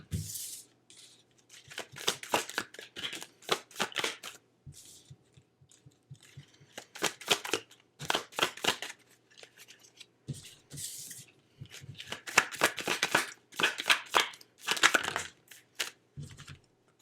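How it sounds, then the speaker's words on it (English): A deck of tarot cards is shuffled close up in repeated crisp, papery bursts of riffling and slapping, separated by short pauses. "give me a little bit of time here to kind of pull some cards"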